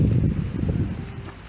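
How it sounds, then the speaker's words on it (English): Gusty wind buffeting the microphone on a hiking trail near Eagle Rock Vista, Arkansas, a continuous low rumble that swells and dips without any voices. "it got windy"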